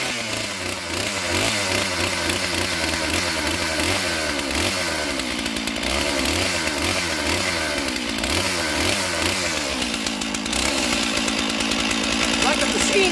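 Stihl 461 chainsaw running near the microphone, a loud sustained buzzing engine whose pitch rises and falls repeatedly as it revs, carrying on throughout.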